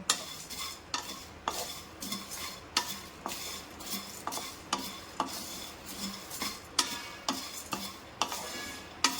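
A spoon stirs and scrapes ghoti gorom, a crunchy Bengali snack, as it warms in a pan, in a steady series of sharp metallic scrapes and clinks over a faint background sizzle.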